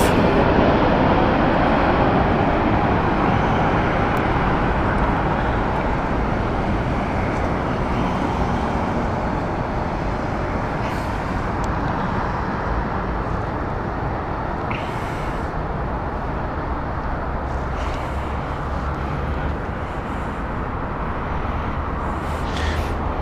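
A jet airliner taking off at Heathrow Airport, a steady broadband roar that holds loud throughout with a faint distant rumble of traffic underneath.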